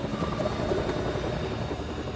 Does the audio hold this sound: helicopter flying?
yes